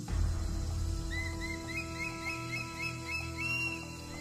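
Javan hawk-eagle, a bird endemic to the island, gives a series of high, thin whistled calls repeated in a loose rhythm over a low steady rumble, moderately distant.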